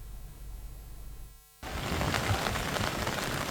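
Heavy monsoon rain pours down in Mumbai, a dense, loud, steady roar that starts abruptly after a short, quieter stretch of fainter ambient noise and then continues unbroken.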